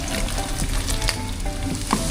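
Fish sizzle and crackle in hot frying oil in a pan, a steady close hiss with small pops and stirring sounds, and no talk.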